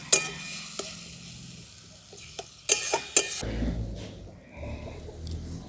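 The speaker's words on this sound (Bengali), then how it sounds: "এবার সমস্ত মশলাগুলোকে আমি ভালো করে কষে নেব।" Spice paste for a katla fish kalia being fried and stirred in a pan, with a low sizzle, several sharp spatula scrapes and knocks against the pan, then a louder hiss as the frying intensifies.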